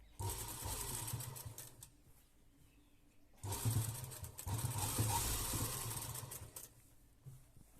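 A sewing machine stitches lace onto a kameez in two bursts of fast rattling stitching separated by a quieter pause, close but fairly soft, with no voices.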